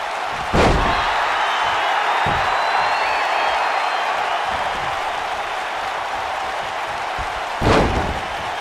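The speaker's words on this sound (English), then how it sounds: "Becky Lynch setting a nice exploder suplex" An exploder suplex slam in WWE 2K19 during a Charlotte versus Becky Lynch match, two heavy thuds landing several seconds apart over a constant roaring arena crowd.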